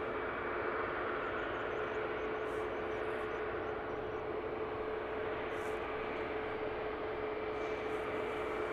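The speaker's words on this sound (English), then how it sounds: "EasyJet 2303 off to Tenerife is ready to go. This one at an A320-200." An EasyJet Airbus A320-200 jet departs, giving off a steady, even roar with a thin high whine, held at a constant level at moderate distance for the whole stretch.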